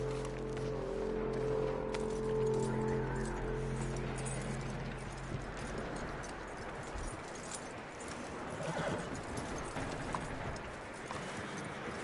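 Horse hooves clip-clop steadily at a walk in Red Dead Redemption 2 against a low rumbling backdrop and a sustained tonal hum that fades after the first few seconds, moderately close and continuous throughout.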